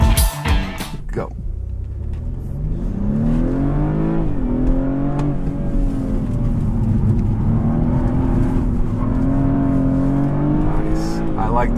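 A compact performance car accelerates hard on a test drive, its engine note climbing loud and close through the gears with a steady, driving roar. Talk can be heard at the start.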